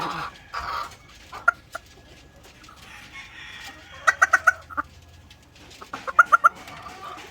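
A hen clucks while laying an egg, giving close bursts of three or four sharp clucks separated by quiet stretches.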